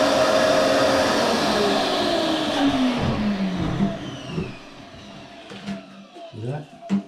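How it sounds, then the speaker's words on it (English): A wet vac runs loud and steady, its whine sliding down in pitch as it draws water out of kitchen plumbing, then cuts off into scattered clunks and knocks. "So now if we turn the vacuum on, it should suck a little bit of water out of the system."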